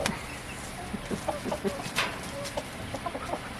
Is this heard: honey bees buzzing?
no